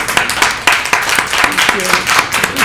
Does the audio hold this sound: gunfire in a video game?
no